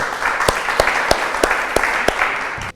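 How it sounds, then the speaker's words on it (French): Studio audience applause welcoming Emmanuel Lescaudron onto a French business talk show, steady close clapping with a few sharper individual claps standing out, ending abruptly. "Bonjour Emmanuel, sous vos applaudissements"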